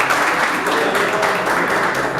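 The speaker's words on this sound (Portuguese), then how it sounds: "Palmas para vocês, parabéns." Audience applause at a Brazilian economics talk, dense steady clapping from a room of people filling the whole moment, fairly loud and even throughout.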